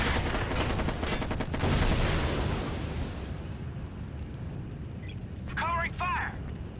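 Covering gunfire in the video game Act of War: High Treason, a loud rolling burst of rapid shots and blasts that fades into rumble, followed by short radio-style voice lines near the end.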